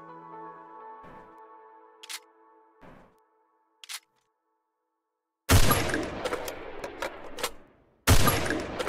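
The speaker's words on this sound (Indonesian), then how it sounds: "Ini reload yang tinggi." Gunfire from a high-reload weapon in the Free Fire game: after a quieter stretch of faint tones and clicks, loud dense bursts of rapid shots crash in, break off, then resume near the end.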